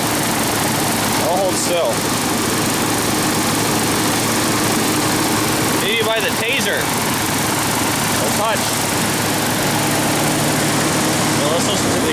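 A car engine idles steadily with a misfire, a continuous close rumble throughout, while a person talks briefly over it.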